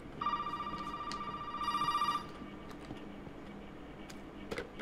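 A telephone rings inside the Resident Evil 7 video game, a bright electronic ring sounding twice in quick succession, loud and close, then fading into quiet ambience.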